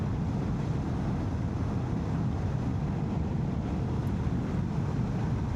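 Honda X-ADV 750 scooter cruising in top gear, a steady low drone heavily buffeted by wind noise throughout, with no talking.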